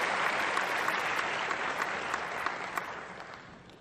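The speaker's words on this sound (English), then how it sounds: "Give them a big round of applause" A large audience at a railway project inauguration event applauds in a steady, dense wash of clapping that slowly tapers off toward the end.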